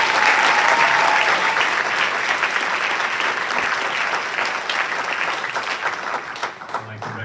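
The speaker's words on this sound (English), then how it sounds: "Please join me in a round of applause." Audience applause fills a senior awards ceremony for the class of 2024, a steady dense roar of clapping that holds loud throughout and thins slightly near the end.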